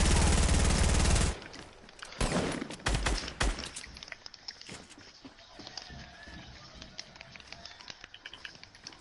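Loud bursts of automatic gunfire from a video game open the clip, followed by scattered shots, rattles and footsteps that trail off into quieter in-game movement.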